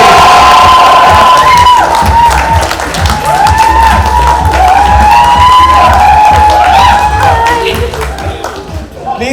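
A loud crowd at a Bollywood red carpet event cheers, whoops and applauds continuously, with shrill voices rising over the clapping throughout.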